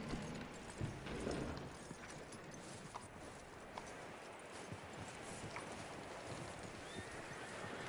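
A horse in the Red Dead Redemption video game, heard close by with clip-clopping hooves and a neigh over a constant wash of outdoor ambience, with faint scattered thuds.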